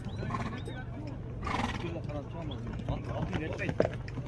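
A horse neighs in a short whinny near the start while hooves clop on the ground and a person talks over the scene, with a louder clatter toward the end.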